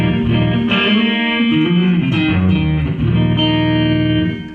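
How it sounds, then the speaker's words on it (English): Electric guitar played with a clean tone through a Fender amp with lots of bottom end, loud sustained chords with rich harmonics ringing throughout, heard alone. "So the Fender clean by itself."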